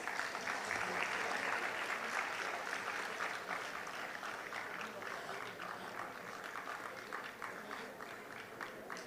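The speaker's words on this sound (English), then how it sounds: "He deserves a big round of applause." Sustained applause from the audience at a national eminence award ceremony, a dense wash of clapping at moderate distance that slowly tapers over several seconds, with faint voices mixed in.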